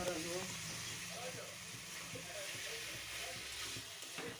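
Bengali chicken curry with fried potatoes and added water simmers in a covered pan, giving a low, steady sizzle and bubbling close by, with a voice talking over it.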